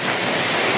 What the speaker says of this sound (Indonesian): soalnya ini di air terjun coy